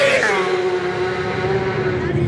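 Racing motorcycles at the Isle of Man TT road race scream past in a loud, continuous high-revving engine roar with a steady tone that holds throughout, close and dominant with no talk over it.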